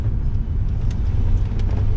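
A Holden Commodore work car's engine pulls hard under acceleration, a loud, steady low rumble heard from inside the cabin with no talking.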